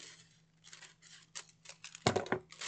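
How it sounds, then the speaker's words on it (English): Scissors snip through tissue paper for a Dollar Tree gift craft, a few soft crinkling cuts and then a sharper, louder close snip near the end, with no speech. "it looks like I need to cut off just a little bit of this tissue paper. So I am just going to do that with my scissors"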